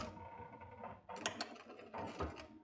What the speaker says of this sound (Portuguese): Passar uma costurinha bem fininha para segurar esse tecido com a parte do friso